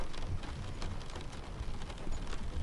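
Steady rain falls near a coastal lighthouse over open water, a continuous broadband patter with a soft low rumble beneath, moderately quiet and unbroken, with no voices.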